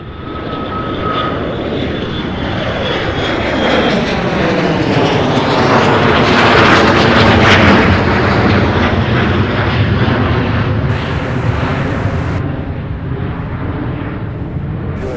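UPS heavy freighter airplane engines at SDF airport, a loud, sustained jet roar that swells toward a peak and sweeps in pitch as the aircraft passes close overhead, then eases slightly, with no talk.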